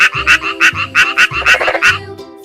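Frog croaks come loud and close in a quick rhythmic series of about eight raspy calls over a low musical backing, with no speech.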